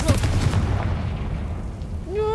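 A Confringo fire spell explodes in the Hogwarts Legacy video game, a loud booming burst that rolls into a fading rumble, with a voice calling out just before and speaking again at the end.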